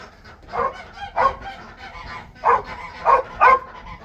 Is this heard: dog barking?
yes